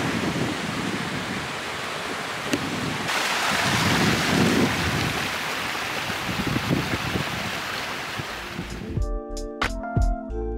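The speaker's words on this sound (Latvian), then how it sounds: "Es ceru, ka varat dzirdēt, jo te ir baigais vējš." Strong wind buffets the microphone in a roaring, gusty rush for several seconds beside blue water before it abruptly gives way to a different, tonal sound.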